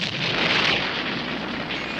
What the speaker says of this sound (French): On dirait une explosion